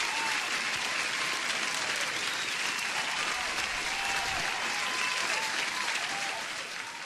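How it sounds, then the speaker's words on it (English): Sustained, crowded applause ringing out during a live trading stream, loud and steady with faint whoops mixed in, holding for about six seconds before easing off slightly at the end. "I have to give you an applause, Danish Ahmed"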